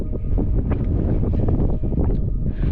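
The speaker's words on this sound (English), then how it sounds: "It's pretty windy, so I don't know how well you can hear me" Rough, steady wind buffeting the microphone, with low rumbling gusts throughout and no talking.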